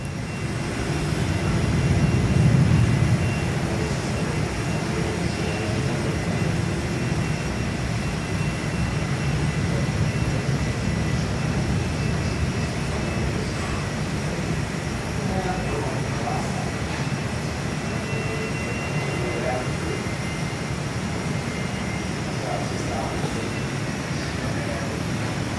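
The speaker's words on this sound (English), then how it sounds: "got an A320 coming in to land on 24" An Airbus A320 airliner approaches to land on runway 24, its engines a steady, broad roar that holds fairly loud and constant throughout, heard from an airport viewing platform.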